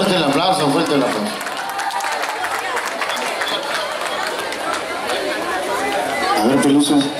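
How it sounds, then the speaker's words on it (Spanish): Party crowd at a quinceañera clapping and chattering steadily throughout, a dense, loud wash of applause and voices with music-like tones underneath, swelling slightly near the end. "Fuerte el aplauso, fuerte el aplauso."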